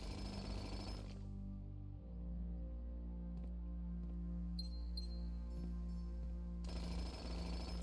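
A jackhammer in the video game Blue Prince gives a loud, gritty burst of drilling, then goes quiet while soft game music and faint clinks play, before a second harsh burst near the end.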